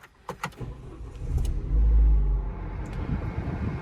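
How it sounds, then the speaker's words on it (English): A few faint clicks, then a Renault Laguna Coupe engine cranks and catches with a low rumbling swell, settling into a quiet, steady idle. "Let's start the car up."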